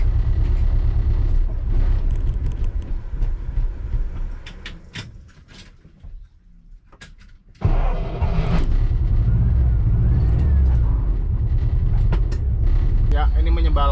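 An air-cooled Volkswagen engine, leaking oil and due for a rebuild, rumbles loudly and unevenly, sputters out into near silence for a couple of seconds, then roars back to life.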